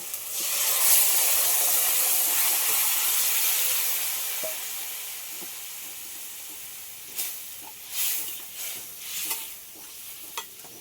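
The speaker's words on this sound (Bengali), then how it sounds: "তরকারিটা ঢেলে দেবো" Fish curry poured into a hot pan, giving a loud, steady sizzle and steamy hiss that fades slowly, followed by a few stirring scrapes near the end.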